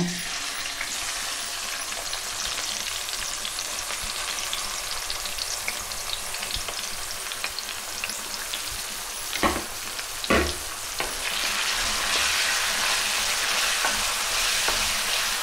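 Onions fry in hot oil with a dense, continuous close sizzle for a long stretch, broken by a few brief louder crackles or knocks midway and swelling slightly near the end.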